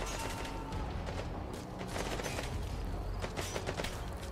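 Gunfire in Metal Gear Solid 5: The Phantom Pain: sustained, dense rattling bursts of automatic fire, moderately distant, that continue throughout without a pause.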